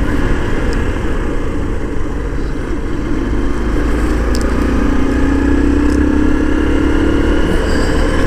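Hero Hunk 150R motorcycle engine revving up toward 5,000 rpm in third gear, a loud close continuous drone with a rising tone building over the final seconds, alone without talk.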